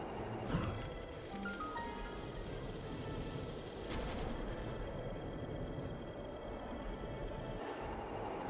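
Cannons blown up in The Legend of Zelda: Breath of the Wild on Switch: a dense, continuous explosive roar, with a sharp blast near the start and another burst midway, steady and loud throughout with no voices.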